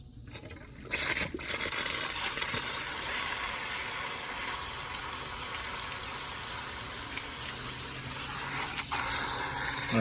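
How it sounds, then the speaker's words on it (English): Water from a hose sprays steadily onto a bus radiator clogged with grass clippings, a continuous loud hiss and gush that starts abruptly after a brief quiet moment and runs without a break. "So we're gonna hose this all down and get it cleaned up good."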